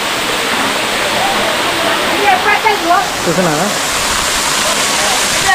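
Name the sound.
Gandhari Medaram waterfall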